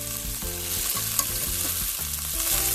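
Chicken gumbo ingredients fry loudly in a close pan, a dense constant sizzle with rhythmic stirring and scraping throughout, no voices.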